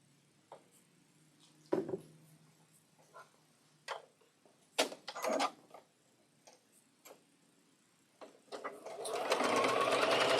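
A sewing machine stitches a quilt block in short intermittent bursts with clicks in between, building to a sustained fast run at the end. Faint talk is present.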